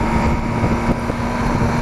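Strong wind buffets the microphone outdoors, a steady loud rumbling roar that fills the whole clip without letup.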